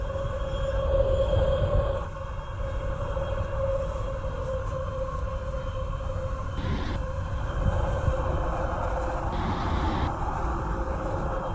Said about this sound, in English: I just want to spawn the train.